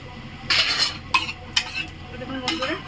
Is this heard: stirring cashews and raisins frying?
yes